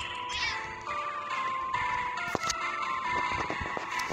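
A pet cat meows in a few drawn-out, wavering cries close by, with scattered clicks and household noises around it.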